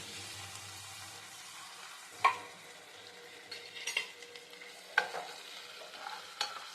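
Green chilli paste fries with browned onions in a pan, a faint steady sizzle punctuated by a few distinct metallic clanks and scrapes from stirring, with no talking.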